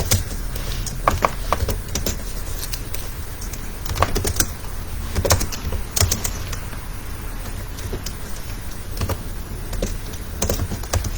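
Close keyboard typing as a JavaScript program is entered, in scattered bursts of clicks over a steady background hum, with faint bird chirps somewhere in the background and no speech.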